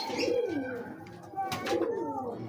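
Pigeons coo in low, repeated throaty phrases, close by, with a faint chirp and some background noise; these are big breeder pigeons kept by a fancier.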